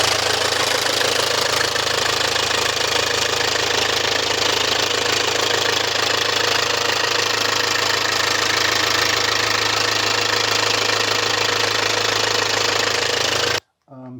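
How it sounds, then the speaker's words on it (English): A Range Rover Evoque diesel engine idles steadily after a fuel filter replacement, a loud, even rumble with a faint rhythmic clatter that runs unbroken until it cuts off abruptly near the end. "So, as you can hear, the car runs really fine"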